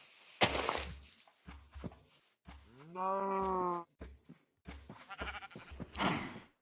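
Sheep bleating in the video game Minecraft, one clear drawn-out bleat in the middle amid scattered game footsteps and thumps, fairly close and moderately loud.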